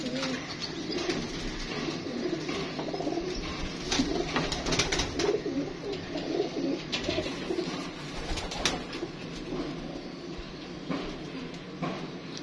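Domestic pigeons in a breeding loft keep up low, overlapping throaty cooing, near and continuous, with faint background rustling and handling noise.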